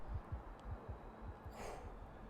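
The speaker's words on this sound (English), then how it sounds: "Hear that thumping? That's the heartbeat." Low thumping heartbeat effect from the Factorio video game, a steady series of soft double pulses repeating about every half second, with a brief hiss partway through.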